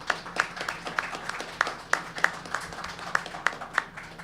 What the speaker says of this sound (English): So maybe a round of applause for John Vargo.